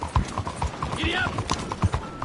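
Horse hooves clip-clopping at a gallop in Red Dead Redemption 2, a quick, even rhythm of dull thuds under a rider's short shout, with a brief whinny and rustling ambience around it.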